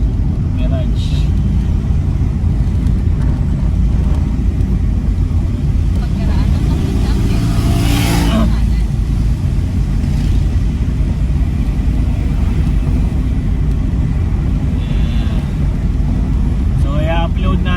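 A Mitsubishi Mirage G4 GLX with automatic transmission, carrying five people, climbs the steep Ligaya Drive in Talisay, Batangas, its engine a loud steady low drone heard from inside the cabin for the whole stretch, with a brief brighter surge midway.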